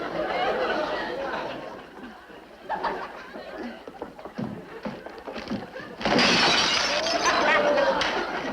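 A tossed parcel with glass inside crashes into a bin, a loud bright shatter of breaking glass near the end, following a stretch of chatter and light laughter.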